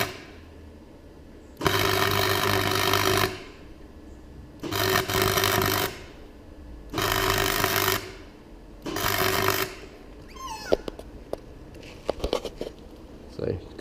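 Gasless flux-core welder tack welding a patch plate onto a BMW E36 body, four loud crackling bursts of about two seconds each with short pauses between, then a few faint scattered pops and clicks.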